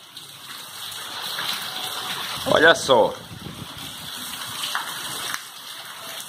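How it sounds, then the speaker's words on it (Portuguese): Rainwater floods a small street during a heavy afternoon downpour in Cacimba de Dentro, Paraíba, a steady rushing and gushing with a brief louder surge of splashing, and a voice speaks briefly. "A ruinha tá alagando aqui"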